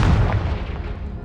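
A single Confringo fire-spell blast from Hogwarts Legacy, one sharp booming burst at the start that decays quickly into a short rumbling tail.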